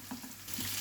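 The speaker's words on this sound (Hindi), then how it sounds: "लो फ्लेम पर ही इसको हम तब तक कुक करेंगे जब तक लहसुन हमारा थोड़ा सा लाइट गोल्डन ब्राउन नहीं हो जाता।" Garlic fries gently in oil over a low flame for a tadka, giving a steady soft sizzle with faint stirring scrapes and no voices.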